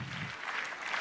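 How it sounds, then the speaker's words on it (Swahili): Audience applause at a gathering, a brief burst of dense, steady clapping from a crowd, loud and close, lasting about a second. "Makofi nzito kwa Mr. Manase."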